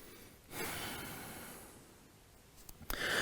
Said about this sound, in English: Take a moment here and breathe.